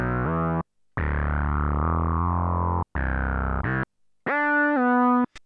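A Moog-style preset on the free OB-Xd synthesizer plug-in plays distorted, buzzy held notes in a few bursts separated by short silences, ending on a brighter sustained tone and a brief blip.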